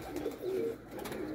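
A homing pigeon from a loft of racing pigeons coos softly in low, rounded pulses, the pigeon having returned home after six months away; no talking is heard.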